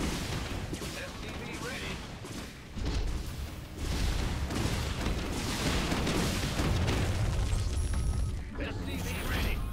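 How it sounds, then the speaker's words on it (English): Banshee airstrike explosions in StarCraft II co-op as Raynor, a rapid barrage of booming blasts and gunfire-like bursts layered over game music and effects, while a unit voice briefly speaks in the mix. "Banshee airstrike. I'm sending an airstrike now."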